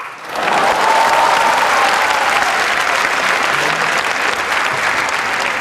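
Audience applause on the Turkish talent show Yetenek Sizsiniz Türkiye, a dense, loud burst of many hands that rises quickly and keeps going steadily to the end, with no talk over it.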